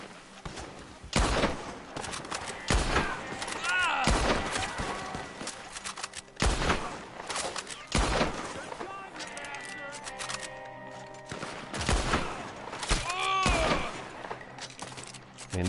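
Bolt-action rifle fire in Red Dead Redemption 2, with sharp, loud shots spaced a second or more apart and more distant gunfire crackling between them.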